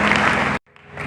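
A church congregation at a Sunday service bursts into brief, dense applause that cuts off abruptly, then a faint murmur and scattered clapping return.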